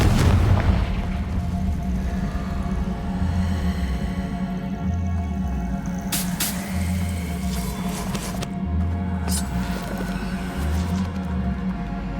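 A Confringo fire spell explodes in the Hogwarts Legacy video game, producing deep booming blasts with sharp bursts around the middle and later part, set over a constant low rumbling background.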